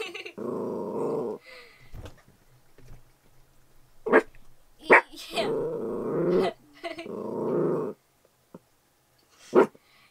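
A dog named Phoebe lets out several low, sustained growls in bursts separated by pauses, close and fairly loud, with a few sharp noises and brief sounds in between.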